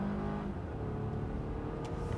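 A Volvo XC60 T6 plug-in hybrid SUV accelerating under a bit of added punch, its engine giving a steady, fairly loud drone for about two seconds, with no talking.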